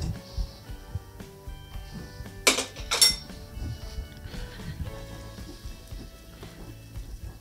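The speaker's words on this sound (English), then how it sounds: "And just mix this all together." Chicken being mixed with pimento cheese in a baking dish, a spoon clinking and scraping against the dish in soft repeated strokes, with two sharp louder clanks near the middle and no speech.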